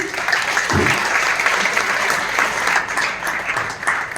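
Sustained applause from an audience at a function at the Panchkula Gymkhana Club, steady and dense throughout with a brief murmur of voices underneath.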